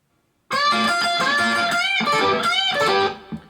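A fast electric guitar lead lick, a rapid run of bright picked notes played alone for about three seconds before ringing out.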